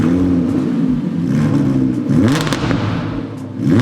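A V10 supercar with high mileage and an aftermarket exhaust starts up and revs, loud and close, with rising sweeps and a harsh, raspy exhaust note.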